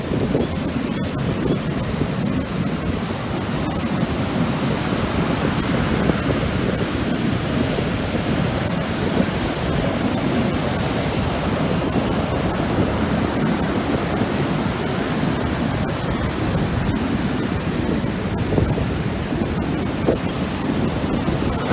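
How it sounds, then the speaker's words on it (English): Ocean waves on a rainy beach, a continuous loud roar of surf with steady broadband wash and wind buffeting the microphone, no talking throughout. "listen to the roar of that ocean"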